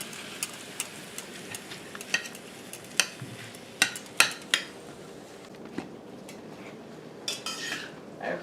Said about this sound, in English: we're continuing to stir the ground beef and let everything break up and brown nicely